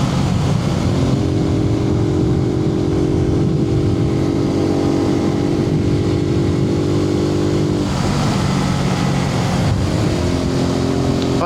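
Suzuki TU250X motorcycle engine droning steadily from a helmet-mounted microphone during an evening ride, loud and continuous with wind roar, the pitch shifting around eight seconds as the rider changes speed.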